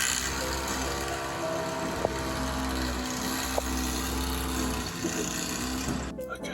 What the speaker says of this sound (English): this guy's been drilling at the train station roof